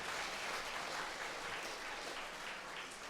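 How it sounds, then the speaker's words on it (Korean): A church congregation at a revival service applauds with steady, dense clapping that holds evenly throughout, soft and somewhat distant. "박수 한 번 더 해주세요"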